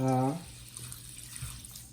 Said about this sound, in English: I'm gonna take some hot water here and just put it on these rice noodles here and let them soak.